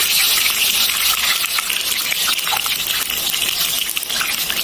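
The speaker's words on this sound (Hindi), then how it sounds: "तो अब हम पहले डालेंगे घी।" Ghee poured into a hot kadhai, or wok, for home cooking gives a steady, fairly loud hiss and sizzle that runs through the whole stretch without a break.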